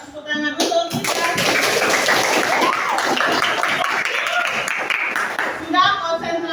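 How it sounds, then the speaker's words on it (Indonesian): A classroom group claps together in a dense, lively burst of applause lasting several seconds, with brief talk just before and after. "Ya, beri tepuk tangan untuk kita."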